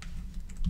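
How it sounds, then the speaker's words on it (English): A command is typed on a computer keyboard, heard as a short burst of a few soft, close keystroke clicks. "we simply type surge into our command line"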